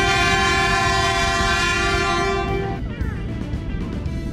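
Minecraft train pulling out of a station, a loud sustained horn with rich stacked tones over heavy rumbling, the horn cutting off partway through while the rolling rumble continues alone.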